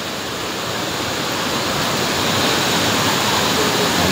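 Mantayupan Falls pours in a steady, loud, rushing roar of falling water, close and continuous with no pauses.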